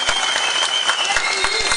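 Audience applause at a political rally, dense and steady clapping from a crowd throughout, fairly loud and close, with no pauses.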